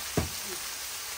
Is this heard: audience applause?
no